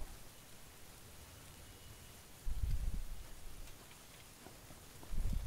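Dynamic-weather rain in PUBG hisses as a constant soft downpour, with two heavier low rumbling surges that swell briefly over the patter.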